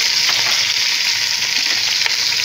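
Onions fry in a pan with already fried chicken, giving a loud, dense, continuous sizzle close up with faint stirring ticks.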